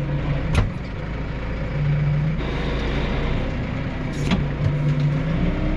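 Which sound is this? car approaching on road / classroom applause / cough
car approaching on road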